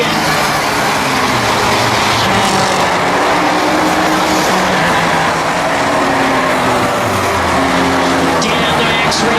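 Race cars in a claimer-class race thunder down the back straight of a track, a loud, continuous roar of engines with a commentator talking over it.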